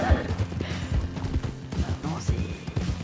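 Horse hooves clip-clop steadily in a rhythmic gait through a forest in the Red Dead game, with a busy backdrop of game ambience underneath.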